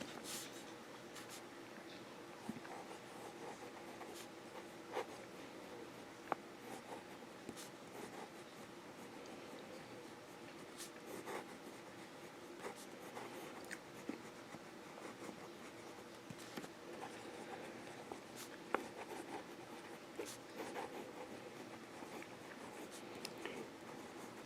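A Hero 3019 fountain pen with a fine nib scratches out swirls on Tomoe River paper, a quiet, close, continuous scratchy whisper with small ticks as the strokes change direction.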